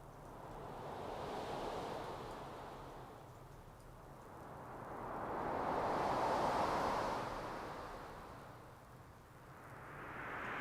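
Ocean surf rolls onto a windy beach in slow swells, each wave building to a broad roar and then fading, with a steady wind hiss underneath and no voices.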